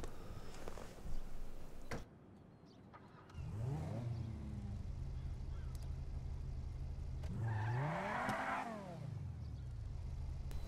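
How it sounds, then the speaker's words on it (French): A Subaru BRZ in GTA Online starts up and revs, its engine droning steadily with two sharp rising-and-falling rev sweeps, close and loud, with no talking. "Allez, je vous démarre aussi la BRZ."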